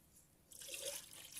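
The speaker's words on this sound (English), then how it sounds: "and then pouring the rest of the glaze over the outside." Liquid ceramic glaze poured over the outside of a pot, a soft splashing pour and dripping that begins halfway through after a quiet start, close and moderately loud.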